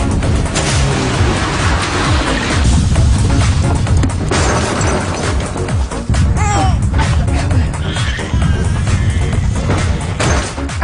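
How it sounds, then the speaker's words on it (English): A car crashes into petrol cans after a tyre blowout: a loud, sustained roaring blast with crashing debris and rumbling that continues for several seconds, dense and close, with some scattered high crackles. "it was a superb explosion"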